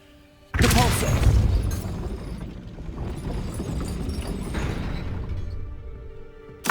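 A Depulso force spell cast in the video game Hogwarts Legacy, a sudden loud whooshing burst with rumbling impact that sustains and fades over several seconds, another hit starting at the end.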